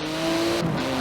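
Porsche 911 GT2 RS in Forza Horizon 4 with a titanium exhaust, its engine droning steadily at close range with a brief rise in pitch partway through, no voices over it.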